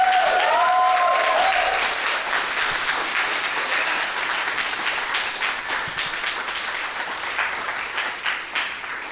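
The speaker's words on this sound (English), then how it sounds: "you can give yourself a big round of applause right now" Demo day audience at a Le Wagon Berlin web development bootcamp claps in a loud, sustained round of applause that gradually thins and fades toward the end, with a brief tonal sound near the start.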